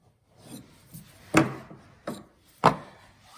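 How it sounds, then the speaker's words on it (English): A chisel cuts and scrapes polyamide knot filler on a wooden staircase repair, giving a few separate rasping scrapes, with two sharp strokes standing out, close and fairly quiet. "So I take my chisel, and please be careful, don't put your hand in front."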